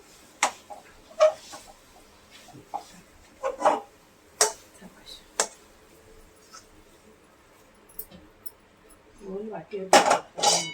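Cooked food is scraped from a pan onto a plate, producing scattered metallic clinks and scrapes, separated by pauses, with a denser flurry of clatter near the end.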